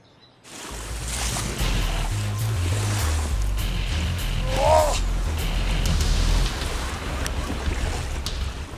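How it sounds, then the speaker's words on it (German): The glacier-fed Rhône rushing through the Goms valley in Wallis, a steady, loud wash of flowing water with wind buffeting the microphone throughout. "Durch das ganze Tal fließt die Rhône oder Rotte"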